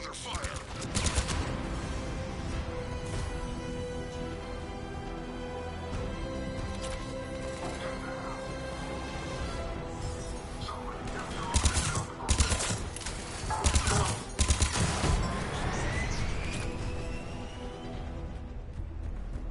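Gunfire in the video game Mass Effect 3: dense, rapid bursts of automatic weapon fire that rattle almost continuously, with sharper, louder volleys in the second half.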